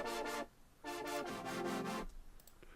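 A layered super saw synth stack plays bright, buzzy stabbed chords in an EDM drop, with short bursts separated by brief gaps and a longer sustained chord before it cuts off.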